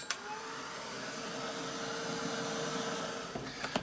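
A hair dryer blows steadily across a painted art journal page, a continuous broadband whoosh holding even for several seconds before a few soft clicks and bumps near the end.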